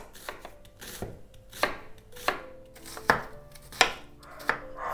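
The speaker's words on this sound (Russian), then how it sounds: "Лук нарезаю тонкими четверть кольцами." A knife slicing one onion into thin quarter rings on a cutting board, about eight crisp, evenly spaced chops, close and clear with no talking.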